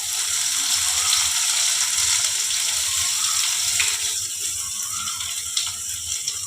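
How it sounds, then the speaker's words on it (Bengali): Onions sizzle and crackle steadily in hot oil in a home kitchen pan, a dense bright frying hiss that stays loud and continuous with small pops throughout. "আমি এখন তেল দিয়ে দেবো। পেঁয়াজগুলোকে আমি দিয়ে দিলাম।"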